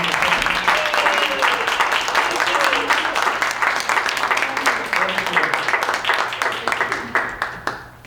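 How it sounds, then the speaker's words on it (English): A crowd applauds steadily with dense clapping for several seconds, then it thins out and fades near the end. "Another round of applause for Cat Moore."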